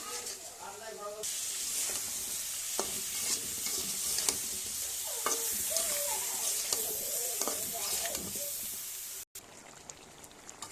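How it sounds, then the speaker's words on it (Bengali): Bottle gourd is stir-fried in a pan, with a continuous sizzle and repeated scraping and stirring strokes, a brief pause near the end, and a voice faintly present underneath. "লাউটা আমার ভালোভাবে কষিয়ে নেওয়া হয়ে গেছে।"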